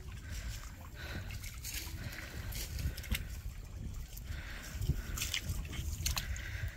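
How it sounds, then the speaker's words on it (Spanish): Floodwater drains slowly out of a flooded residential street, sloshing and trickling through sand or gravel ballast in a steady, continuous wash of close water noise with no talking. "ya va poco a poco saliendo el agua"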